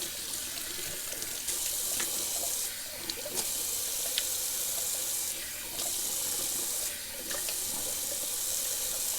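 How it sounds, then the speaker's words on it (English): A sink tap runs steadily for a cold-water rinse, a close, continuous splashing stream with a few brief dips where the flow is interrupted, with no speech. "Alright, going to do a little cold water rinse."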